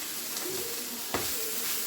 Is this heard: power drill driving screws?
no